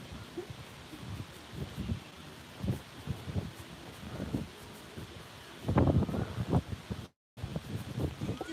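Gusty wind buffets the microphone outdoors in Thailand, with uneven low rumbles that swell and fade and grow strongest near the end, along with rustling.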